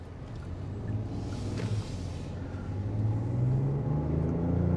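A 2022 Genesis GV80 diesel with a 208 kilowatt engine and 8-speed automatic accelerates, a low rumbling drone rising gradually in pitch and loudness from inside the cabin.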